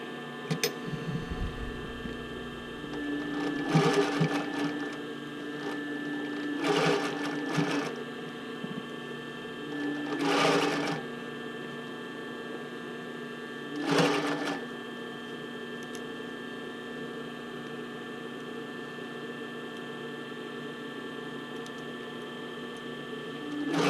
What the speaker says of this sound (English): I actually want to sew these 2 layers together, just right around the curve